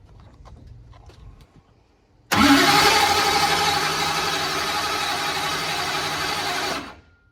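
A 4000hp blown Hemi in a Buick Grand National, with a weak starter and battery, comes on suddenly after quiet ticking and fires into a loud, harsh, roaring idle that holds for several seconds before cutting off abruptly.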